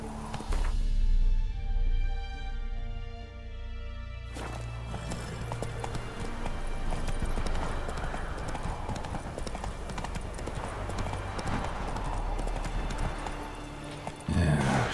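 Horse galloping in The Witcher 3: Wild Hunt video game, steady rapid hoofbeats that begin a few seconds in and continue loudly after a short stretch of quieter game sound.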